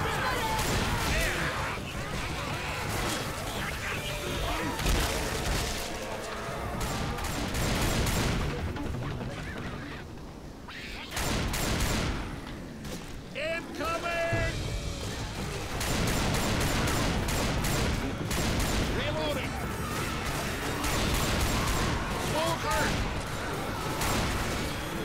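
Rapid gunfire and shotgun blasts from the zombie video game Left 4 Dead 2, with dense, loud bursts throughout, a brief lull partway, and players talking over the action.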